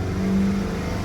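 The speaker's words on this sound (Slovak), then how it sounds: "A teraz vytočím motor na 3000 otáčok a pozrieme sa na tlak oleja" A car engine held at about 3000 rpm while its oil pressure is checked on a cold engine, giving a steady, loud, close mechanical drone with a constant low tone and no talk.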